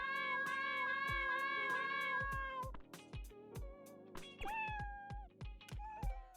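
Pet cat Toasty lets out a long, loud meow over rhythmic thumping music, then follows with a shorter, sharper meow partway through as the beat continues underneath.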